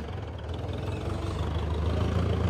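Kubota diesel tractor engine idling, a steady low rumbling chug with a faint knock, moderately close and unbroken, with no voices over it.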